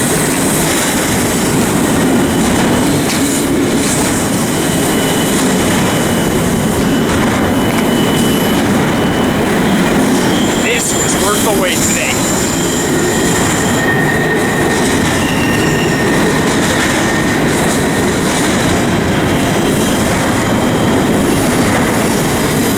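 A loud, continuous rumble of a long freight train rolling past close by at Riverside Station, with wheel squeals and clattering; a voice speaks briefly.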